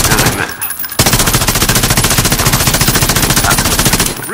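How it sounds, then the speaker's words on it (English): Rapid, loud automatic gunfire rattles in an unbroken burst of evenly spaced shots in Call of Duty Modern Warfare online play on Aniyah Palace, preceded by a brief quieter moment. "Shit, who's shooting?"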